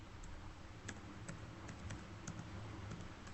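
Someone types on a computer keyboard while entering details into an online application form. Light, quick key clicks come in irregular bursts, close and fairly quiet, with a faint hum behind them and no talking.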